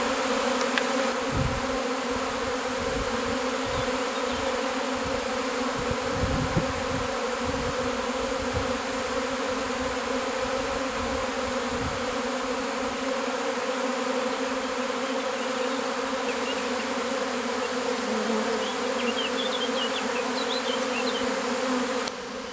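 A dense, steady buzz of a honeybee swarm around an open hive close by, continuous and loud throughout with a low droning hum underneath.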